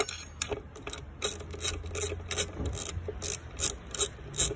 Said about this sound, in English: Now we're going to remove this bolt that holds down the air filter box.